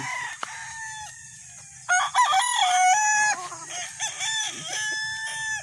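Gamefowl stag crowing up close, one long strained cock-a-doodle-doo followed by shorter broken crows and clucks, with faint farmyard noise underneath.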